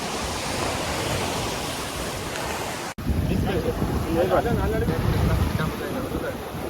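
Surf at Paradise Beach in Gokarna rolls in as a constant broad wash of breaking waves, with a brief cut midway, and a voice speaks over the roar.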